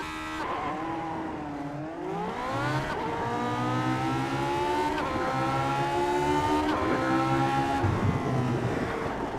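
Race car engine howling at high revs on a lap of Spa, steady harmonic tone rising through the gears with a brief dip and shifts, loud and close from onboard, no talk.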